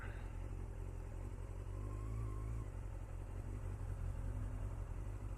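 Cars and motorcycles rumble past on a crowded road near busy tourist sacred sites with no parking, a steady close engine drone with revving swells throughout.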